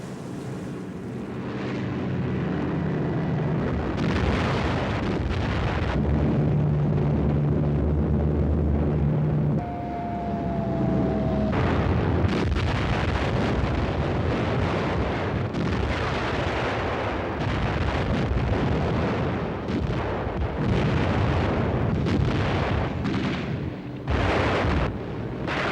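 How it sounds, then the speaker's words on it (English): Heavy aerial bombardment in a WWII-era setting, loud continuous rumbling explosions and blasts with aircraft droning overhead, sustained and dense throughout with no voices. "terrific aerial bombardment."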